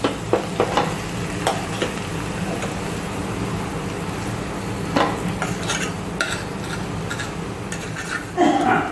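Mashed potatoes go into a frying pan for a Kathiyawadi papad corn dish, followed by a soft continuous sizzle with scattered scraping and clinking stirring strokes, growing louder near the end.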